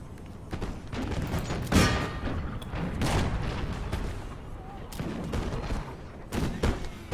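Musket volleys fired by rank in the Napoleonic-era strategy game Imperial Splendour, a series of crackling, rolling salvos at irregular intervals with distant booms between them, loud and close.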